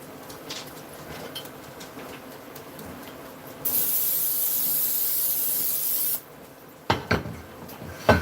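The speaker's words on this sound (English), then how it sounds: "I'm going to go ahead and spray my casserole dish and get it ready." Cooking spray aimed at a casserole dish in a kitchen sink: one steady, close hiss lasting about two and a half seconds amid quiet kitchen noise, followed by a few clunks and knocks.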